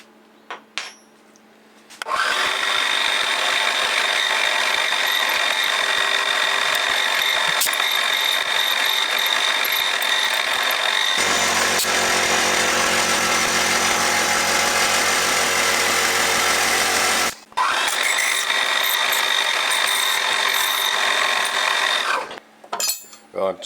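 A drill bores a brass crankshaft bearing, first with a 5mm bit and then a 7.3mm bit, in a machine shop with a rotary table. It makes a loud, steady machining noise in two long stretches with a short break between them.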